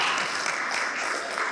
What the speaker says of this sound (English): I love it when people clap for maps.